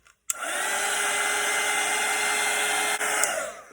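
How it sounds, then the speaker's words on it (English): A hair dryer blows steadily on freshly painted Christmas snowman hats, a loud, constant whooshing whir that switches on abruptly and runs unbroken with a brief dip near the end. "Okay, I'm gonna dry these hats."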